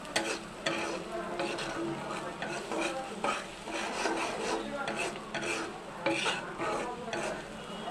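A spoon scrapes and stirs sliced onions frying with oil, salt and turmeric in a pan, making repeated rasping strokes in an uneven rhythm over a soft sizzle, close and moderately loud with no speech.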